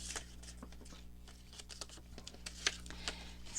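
Cutting a small paper overhang off a handmade faux envelope flip pocket tag, soft close snips and papery rustles in quick irregular bursts against a faint steady hum.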